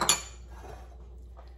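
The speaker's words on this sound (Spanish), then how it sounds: "Ahora sí, todo esto se va a mezclar." A utensil clinks sharply against a dish as tuna salad with mayonnaise is mixed, followed by softer scraping and stirring sounds that fade quietly.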